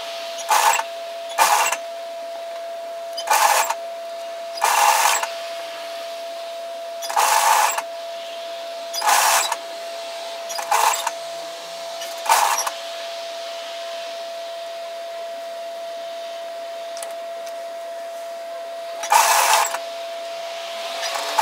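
A sewing machine stitches around a facing on a Carter Shacket jacket, running in repeated short bursts separated by pauses, with a steady hum underneath throughout.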